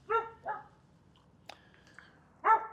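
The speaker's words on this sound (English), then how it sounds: "the barking dog next door" A dog next door gives a few barks, two close together, then a pause with faint clicks before another bark; fairly clear against a quiet background.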